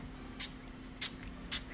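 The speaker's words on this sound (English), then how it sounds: "I'm going to set my face with the Lila Bee setting spray" Makeup setting spray is pumped onto a face in three short, crisp hissing bursts, evenly spaced about half a second apart against a quiet background.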